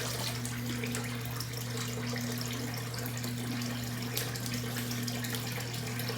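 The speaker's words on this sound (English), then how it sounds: "I'm gonna do a cold water rinse." Cold water running from a bathroom tap for a rinse after a wet shave, a steady, fairly quiet hiss of flowing water that stays even throughout, with a low hum underneath and no talking.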